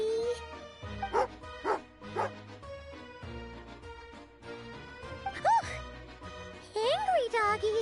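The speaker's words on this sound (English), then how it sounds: "Angry doggy." An angry dog barks and yips in a video game, several sharp barks and whimpers in short bursts mixed with game music and character voices.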